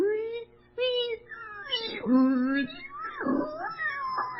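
A voice imitates shortwave radio tuning with wavering, sliding whines and warbles that swoop up and down in pitch, close and fairly loud, with no other sound.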